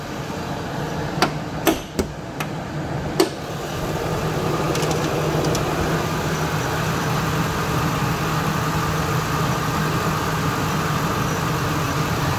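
A few sharp metallic knocks at the start, then a 2001 Ford F-150's 5.4-litre V8 idles with a steady low rumble, even and close by, with no voices.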